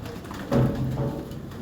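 A single soft, low pigeon coo sounds close by, rising briefly over quiet background noise.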